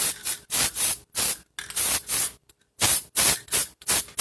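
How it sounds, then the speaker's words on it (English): An aerosol can sprays sealer onto a clay reindeer figure in short hissing bursts, about eight sprays with brief gaps, close and loud with no talking. "and then we'll spray his back"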